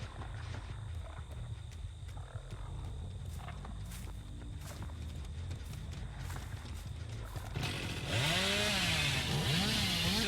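Hillbilly's chainsaw revs into a loud roaring sprint in Dead by Daylight, kicking in near the end after a stretch of footsteps and ambient game noise, with a rising, wavering engine whine.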